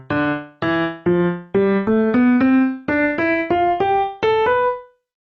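Piano-like notes in a music program climbing up a scale over two octaves, about a dozen separate tones stepping higher one after another with even spacing, clear and close, with no voices.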